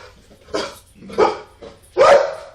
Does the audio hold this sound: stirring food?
no